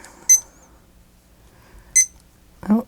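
A kitchen timer sounds three separate short electronic beeps, each roughly a second and a half apart, clear and fairly close in an otherwise quiet room.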